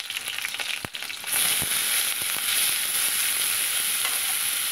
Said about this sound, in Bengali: এখানে কালো জিরে কাঁচা লঙ্কা ফোড়ন দিলাম।